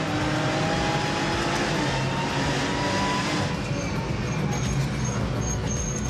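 A 500 horsepower V6 race car with a GT4 limited-slip differential driven on track, heard from inside as a loud, continuous engine roar with shifting pitch and rushing road noise, no speech.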